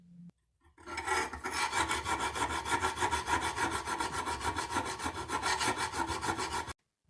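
A hand file rasps along the spine of a hand-forged knife blade held in a vise, a loud, close, rapid run of rhythmic scraping strokes that continues steadily for several seconds before stopping abruptly.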